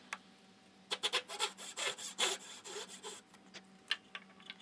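Hand saw cutting dovetails in wood, a run of rhythmic rasping push strokes close by, with a few isolated scrapes before and after the main burst.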